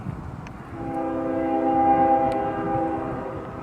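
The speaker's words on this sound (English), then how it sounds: "the train is coming. See, you may not see it, but you hear it" A train horn sounds a long, steady blast over the low rumble of a passing train.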